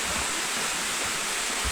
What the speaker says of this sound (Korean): 연달아 2단으로 떨어지는 2단 폭포인 등룡폭포인데요